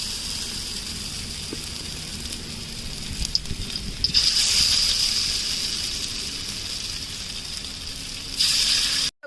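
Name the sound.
cabbage kofta balls frying in oil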